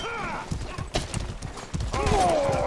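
Horses galloping in the medieval combat game Mordhau, rapid hoofbeats mixed with neighing and clashing battle noise, with a player talking over the action.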